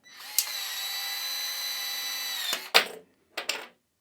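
A Milwaukee M12 cordless PVC shear (2470-20) whines in a steady high motor drone while cutting ABS pipe, then stops and gives two short bursts of whirring, loud and close with no talking.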